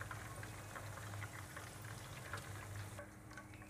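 Chicken wings fry in hot oil for a honey chicken wings recipe, giving a steady, close crackling sizzle with scattered pops that quiets slightly near the end.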